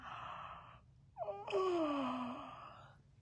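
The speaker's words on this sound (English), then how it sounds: "Can you yawn?" A single drawn-out yawn from a person leading a children's bedtime song, opening with a breathy intake, rising into a voiced stretch and easing off in a long sigh, close and moderately loud.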